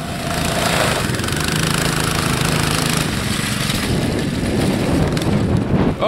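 A small racing engine, likely a lawn mower in a backyard race, runs flat out in a steady, loud, unbroken drone with a rough mechanical buzz and no talking.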